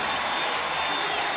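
A baseball stadium crowd cheers and applauds for a player's first hit in a St. Louis at San Francisco game. The roar is steady, dense and loud, with no speech over it.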